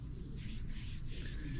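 Hand sanding of car hood bodywork in a cross pattern, a steady close rasping rub that continues evenly without breaks.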